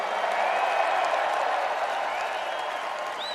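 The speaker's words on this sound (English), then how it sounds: "one more big round of applause for these fellers" Applause fills a bluegrass concert in Newark, New Jersey: a dense, continuous wash of crowd clapping and cheering, somewhat distant and even throughout.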